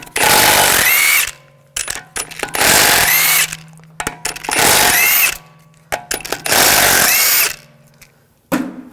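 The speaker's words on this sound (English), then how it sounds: "Using a 17mm socket, we're going to take the lug bolts off." Impact wrench spinning 17mm lug bolts off the front wheel of a 2006-2009 Audi S4, four loud bursts of about a second each with short pauses between, no talking.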